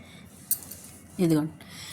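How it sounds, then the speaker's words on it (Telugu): A spoon scrapes and clinks against a pan as banana flower curry is mixed, giving a couple of short metallic taps and a soft squishing stir, with a brief voice sound mixed in. "చూడండి ఇదిగోండి కలుపుకుంటున్నాం."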